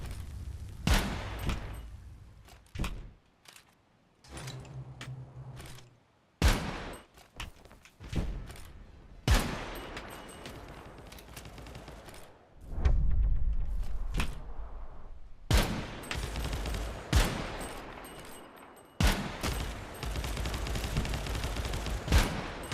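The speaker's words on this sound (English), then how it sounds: "I get sniped. Someone's got a sniper." Sniper and rifle gunfire in the video game Kompete, sharp loud shots in irregular bursts with short gaps, some single cracks and clustered volleys, no talk.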